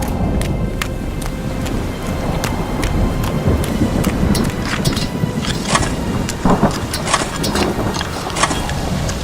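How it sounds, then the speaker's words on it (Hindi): Heavy rain pouring steadily in an animated Hindi story, a dense broad hiss with scattered sharp crackles and low rumbles like distant thunder, continuous and fairly loud with no talking. "बारिश शुरू हो गई।"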